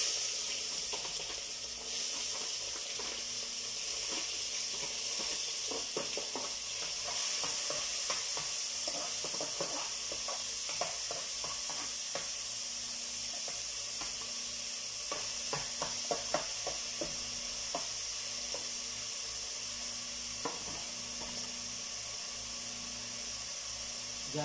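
Onions sautéing in a pan for an Arabic-style duck curry, a continuous moderate sizzle with repeated clicking and scraping of a utensil stirring, steady throughout, no talking.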